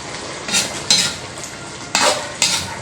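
Pakbet vegetable stew being stirred in a pot, a few short scraping sweeps of a utensil against the pot over a steady low sizzle, with no talk.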